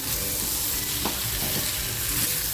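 Fresh Bombay duck fries in a pan with chillies and spring onion greens, a dense, close, continuous sizzle with faint stirring scrapes and no talk.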